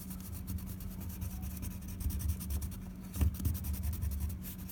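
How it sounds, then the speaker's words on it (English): White colored pencil rubbed across paper while shading a drawing of a bear, a soft, close, continuous scratchy scribbling with short repeated strokes, quiet and alone. "So I'm going to color the front side of this bear with my white pencil"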